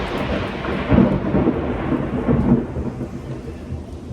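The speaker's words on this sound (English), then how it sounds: "I was waiting for the thunder." Loud thunder rumbles close by during a storm, two heavy rolling booms over steady rain that fade into a softer, lingering grumble.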